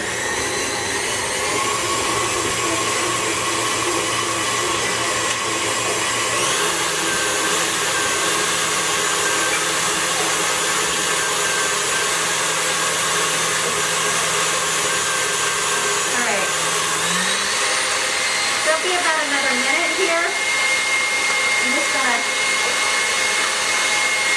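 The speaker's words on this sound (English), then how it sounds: "cream cheese in there and get it whipped up" An electric mixer whips cream cheese for a Hawaiian wedding cake, a loud, continuous whir that shifts pitch partway through as the speed changes, close and steady.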